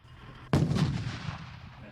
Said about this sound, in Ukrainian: З цим легко упорається 23-мм гармата, яка стоїть на Бредлі.